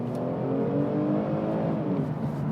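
Kia Stinger accelerating in comfort mode, a steady, fairly quiet engine drone with a smooth rising tone heard from inside the car, with no talking.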